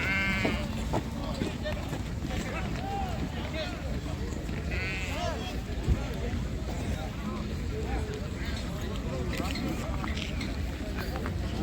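Sheep and lambs bleat repeatedly at a crowded livestock market in Taraz, several overlapping calls near and far over steady crowd noise and ongoing talk.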